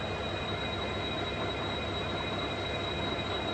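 An Indian Army military train rumbles past in a steady, loud wash of wheel and rail noise with a thin high squeal running through it, close and continuous with no speech.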